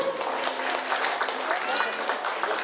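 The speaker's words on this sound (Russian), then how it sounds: "Аплодисменты." Warm, sustained applause from an audience at a couples' competition in Yakutsk fills the whole stretch with dense, even clapping at moderate distance.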